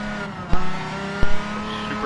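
A race car in a racing video game drones at high, steady revs with a sustained engine whine, broken by two sharp thumps, loud and close.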